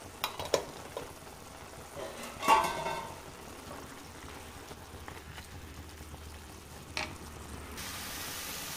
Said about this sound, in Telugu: ఇంకొక 2 మినిట్స్ మనం ఫ్రై చేసుకుందాం